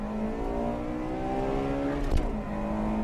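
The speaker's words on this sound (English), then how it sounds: "A quarter-mile race between the 96 and 98 models." A Honda Civic Type R accelerates hard in a quarter-mile race between the 1996 and 1998 models. A steady, strained engine drone rises slowly, with a brief whoosh near the end.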